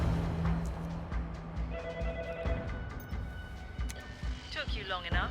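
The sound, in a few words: telephone ringing in video game 007 First Light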